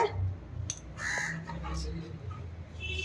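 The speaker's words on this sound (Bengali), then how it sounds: "ওইদিকে কাক ডাকছে, কা কা করে," Crows caw outdoors in the midday sun near a troop of monkeys: a few harsh, separate calls at moderate distance, with a person's voice faintly underneath.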